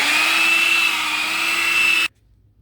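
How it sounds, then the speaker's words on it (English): An electric hand mixer whirs steadily through eggs, sugar and oil with a loud, even motor whine, then cuts off abruptly near the end, leaving quiet. "now you're gonna mix your eggs, sugar, and oil with your nice little mixer for about 30 seconds"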